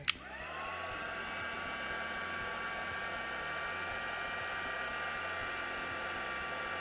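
A heat gun, used to melt embossing powder, starts with a click and then runs as a steady, close whooshing blower hum with a faint whine that holds for several seconds without talk.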